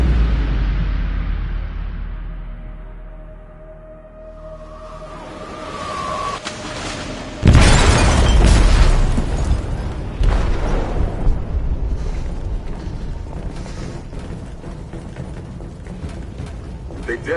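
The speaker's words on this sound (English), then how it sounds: "They detonated an explosive in the hold." A heavy explosion rips through a ship's hold in the video game Detroit: Become Human, a loud sudden boom about midway that rumbles and crackles on over a low droning background.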